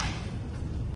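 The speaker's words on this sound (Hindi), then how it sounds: "जोरदार धमाका हुआ" A loud missile explosion in Tel Aviv lands as a heavy, sustained low rumble with a dense roar that fills the whole second and fades only slightly at the end.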